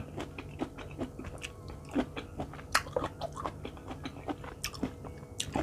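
Cherry tomatoes bitten and chewed up close, a steady run of crisp wet crunches and squelchy mastication for several seconds, with no talking.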